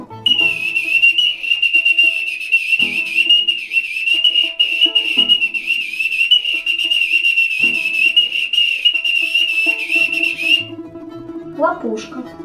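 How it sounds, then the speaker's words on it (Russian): A wooden Russian folk whistle plays a steady, shrill, sustained tone for about ten seconds, close and loud, with brief breaks and a few faint knocks, then stops, followed by a short rising chirp. "Деревянная свистулька."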